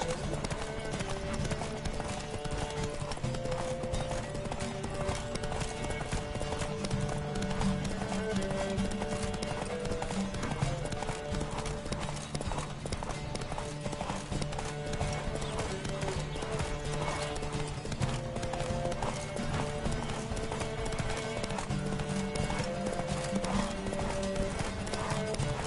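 Horse hooves gallop in The Witcher 3, a loud, dense, continuous clip-clop rhythm running throughout with occasional whinnies, mixed with game music and ambience.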